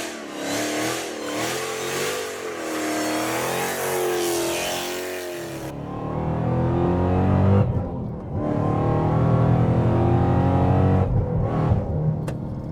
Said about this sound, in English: So the car rips, and you can hear the whine.